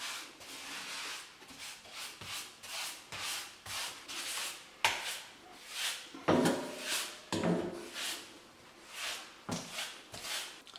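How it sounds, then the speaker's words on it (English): Grout float scraping tile adhesive across a tiled surface in repeated rhythmic rubbing strokes, roughly a dozen passes, close and fairly quiet with no talk. "you can also use it for cleaning the adhesive off the tiles as well"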